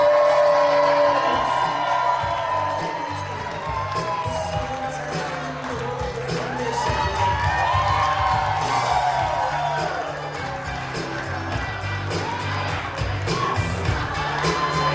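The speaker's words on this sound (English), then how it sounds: "Ladies and gentlemen, more round of applause for our next set of people walking in the room." Wedding guests in a reception room cheer, whoop and shout as the bride's family walks in, a loud sustained crowd roar with scattered high yells throughout.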